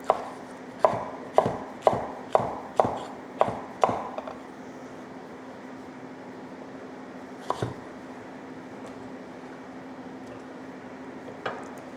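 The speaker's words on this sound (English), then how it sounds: "pulling out the seeds and the membrane and just slicing your capsicum" A knife slices half a capsicum, with seeds and membrane removed, on a board. Eight quick, regular chops come up close, then a steady hum remains with a couple of faint taps. No one speaks.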